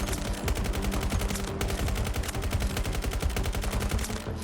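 A gun fitted with a drum magazine fires in Battlefield 2042, an unbroken rapid burst of evenly spaced shots, loud and close, sustained for over four seconds.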